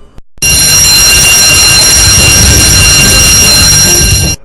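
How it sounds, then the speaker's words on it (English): A loud, continuous electronic alarm rings nonstop, a harsh buzzing tone that starts abruptly and holds steady until it cuts off. "This is a fire alarm. The alarm will ring continuously followed by a message."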